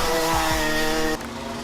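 Racing karts pass close by at a corner exit, with loud buzzing engines and shifting pitch before the sound cuts to a lower, steadier drone.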